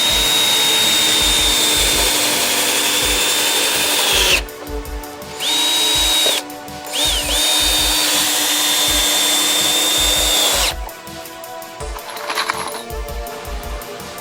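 A power drill whines steadily in loud near bursts as it drives 2.5-inch deck screws into wood. Short pauses separate the bursts, and rhythmic knocking and clicking run underneath.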